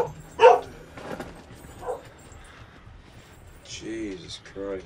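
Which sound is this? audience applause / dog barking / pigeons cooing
dog barking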